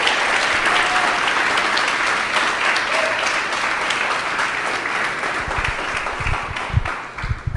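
A church congregation claps loudly in praise of the Lord during a sermon, a thick and steady roar of hands that carries on throughout, with some low thumps toward the end.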